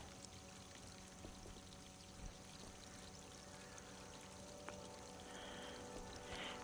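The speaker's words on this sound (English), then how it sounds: "I'm putting water over here for nothing." Water pours steadily in the PS5 game Alone in the Dark, a faint continuous wash with no voices over it.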